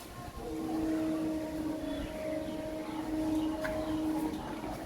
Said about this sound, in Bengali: ট্রেনটা খুবই স্পিডে যাচ্ছে দেখো